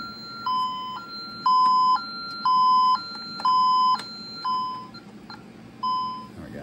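Electronic beeps alternate in a two-tone pattern, repeating in regular pulses from a nearby alarm keypad, steady and moderately loud.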